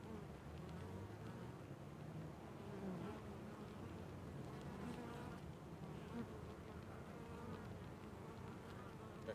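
Honey bees drone steadily around the entrance of a cardboard nuc hive, a dense, continuous buzzing swarm close by with no voices over it.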